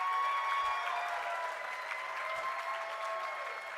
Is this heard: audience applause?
yes